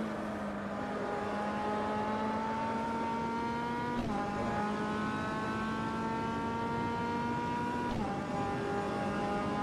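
An MCR 2000 race car in the Automobilista sim racing game at Brasilia pulls hard under steady acceleration, its engine note climbing continuously with two quick upshifts breaking the loud, unbroken roar.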